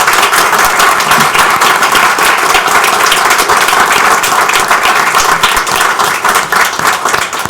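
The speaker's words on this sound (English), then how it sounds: "Please give these folks a large round of applause" Loud, sustained applause from a crowd at a county council session, steady dense clapping for about seven seconds with a slight fade near the end and no talk over it.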